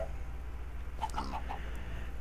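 A Minecraft chicken gives a few short clucks in a brief cluster partway through, fairly soft over a steady background hum.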